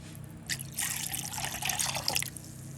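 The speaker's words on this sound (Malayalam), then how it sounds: "ഇനി കുറച്ച് തണുത്ത വെള്ളം കൂടെ ഒഴിച്ച് നന്നായിട്ടൊന്ന് അടിച്ചെടുക്കാം" A short stream of cold water pours and splashes into a blender jar for buttermilk, lasting a couple of seconds at moderate volume.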